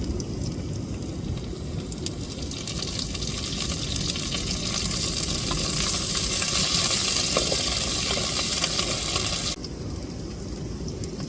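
Curry leaves fry in hot oil for a mango fish curry, giving a loud, steady sizzle that swells mid-way, then drops off sharply near the end.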